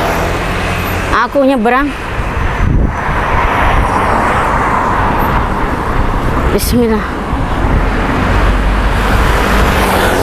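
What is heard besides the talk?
street traffic of cars and motorbikes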